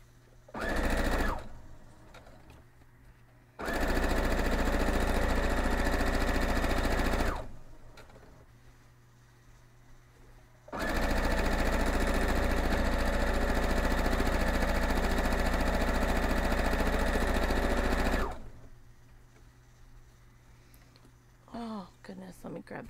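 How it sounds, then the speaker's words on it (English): A sewing machine stitches an October quilt block in two long, steady whirring runs, separated by quieter pauses where a person talks nearby. "We're gonna sew this right up."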